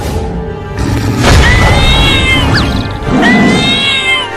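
A cartoon mother cat yowls while fighting a lion, loud strained meowing cries over a thick mix of scuffling, thuds and crashing impacts, close and intense.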